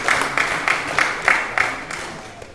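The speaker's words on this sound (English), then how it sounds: "Give Oba a nice round of applause." Mourners at a funeral service give a round of applause, a steady rhythmic clapping with regular accented beats about every third of a second, fairly close and without talk over it.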